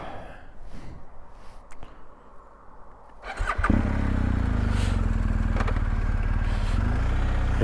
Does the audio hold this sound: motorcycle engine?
yes